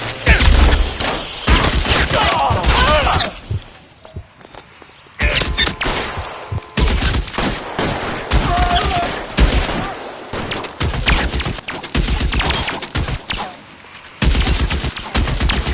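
Gunfire in a video game shootout: loud, close bursts of rapid shots in repeated volleys separated by short pauses, with a few shouted voices among them.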